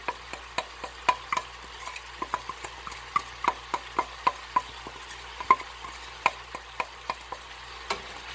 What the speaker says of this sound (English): And kind of mix it onto everything.